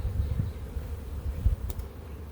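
A low, steady hum comes from honeybees crowding a hive that is preparing to swarm, heard faint and close without any talking.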